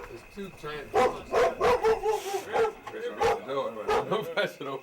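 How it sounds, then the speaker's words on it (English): Two giant dogs bark in loud, close bursts, about a dozen deep woofs in an uneven rhythm, with a person's voice talking over parts of it. "There's two giant dogs."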